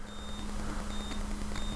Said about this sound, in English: should be able to touch that pad with this connector and it should beep